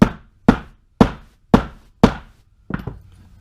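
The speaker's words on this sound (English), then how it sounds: "grab your mallet, rubber plastic one, and you're going to bang the primer into the new round" A rubber mallet taps a primer into a .270 Win cartridge case with five sharp, evenly spaced knocks about half a second apart, followed by a rougher double hit, all close and fairly loud.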